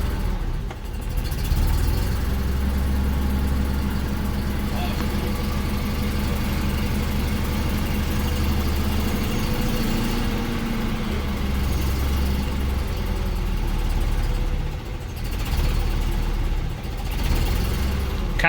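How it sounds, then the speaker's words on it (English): A BMW 633 CSi shark-nose coupe under restoration idles steadily just after starting, a close, even low engine drone holding for the whole stretch with slight throttle wavers and no talk. "Just fired it up. She's running on her own right now."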